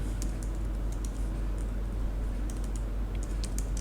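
Rapid typing on a computer keyboard, clicky keystrokes in quick bursts over a steady low hum, close and clear, with no talking.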